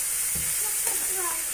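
Chopped onion and capsicum sizzle in a pan for street-style Maggi with egg, a soft steady frying hiss with light scrapes as they are gently stirred.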